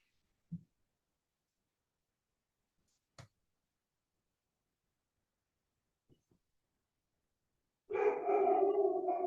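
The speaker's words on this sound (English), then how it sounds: "you can probably hear the dog barking." A dog gives a few sparse, isolated barks at a distance in an otherwise quiet room, followed by a sudden burst of louder, sustained barking or howling at the end.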